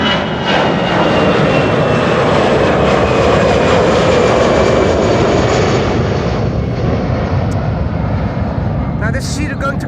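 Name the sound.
Aer Lingus Boeing 737 jet airliner at Schiphol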